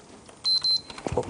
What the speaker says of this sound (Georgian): მესიჯი მომივიდა.